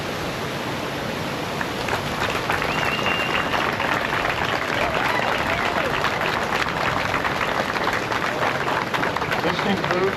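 A crowd at an Honor Flight Chicago memorial ceremony applauds veterans. The applause is a thick, continuous wall of clapping that stays loud and unbroken, with some voices blended in.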